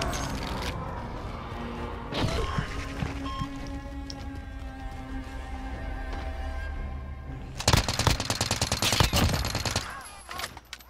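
Rapid automatic gunfire from the zombie shooter game Zombie Rebirth, with a continuous sputter of shots through the clip and a louder, denser burst of firing near the end, with no talking.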